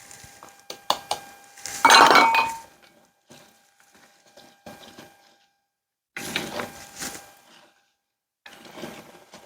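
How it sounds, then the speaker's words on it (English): A wooden spoon stirs a cranberry and elderberry ferment in a jar, giving scattered clinks and knocks with one louder rattling scrape, then quieter stirring after a pause, with no talk. "We're going to give it a little stir."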